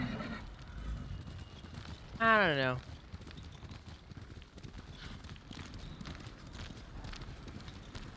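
A horse galloping in Ghost of Tsushima, with continuous quick hoofbeats throughout, a short loud whistling or whinny-like burst early on, and someone talking over part of it.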